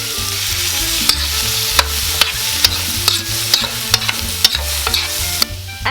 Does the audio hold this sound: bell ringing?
no